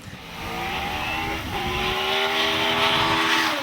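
A race car accelerating hard up the Gurston Down speed hillclimb toward the finish, its engine note rising in a loud, continuous snarl that climbs in pitch over a few seconds.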